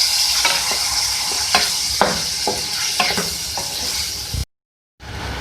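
Chicken with turmeric powder is stirred in a hot frying pan. Loud, continuous sizzling runs under repeated spatula scrapes and clinks against the pan, close up, before a brief total dropout and a return of the sizzle.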